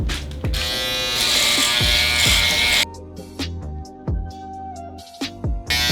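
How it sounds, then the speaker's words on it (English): An electric shaver buzzes loudly and close while shaving facial hair on the cheeks, a steady motor drone for about three seconds, then quieter intermittent bursts and clicks as it moves across the skin. "I'm gonna use my shaver over here to start shaving the unwanted hairs on my cheeks."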